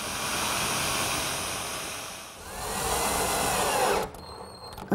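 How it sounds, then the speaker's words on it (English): A jigsaw cuts a slot through an oak seat board for a tall case clock, giving a steady, loud buzzing drone that dips briefly midway, then stops abruptly near the end. "then I'll clean out the middle with a jigsaw"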